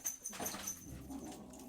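A dog gives soft, faint whimpering sounds over a short stretch, heard quietly and close with no talking.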